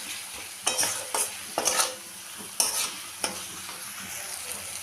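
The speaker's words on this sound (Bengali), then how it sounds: "মশলাটাকে ভালো করে এখন কষিয়ে নেব।" Spice paste of garlic paste, chilli powder, coriander powder, turmeric and salt being sautéed and stirred in a pan for a thin chicken curry, with spatula scrapes and sizzling bursts in an irregular rhythm, close and fairly loud, no talking.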